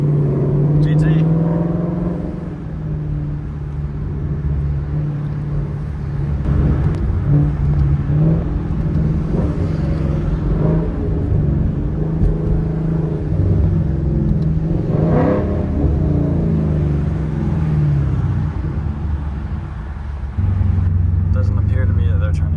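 A loud Ford Mustang 5.0 GT rumbles from inside the cabin while driving, its engine note droning low and rising in a couple of revving surges, with road noise underneath throughout.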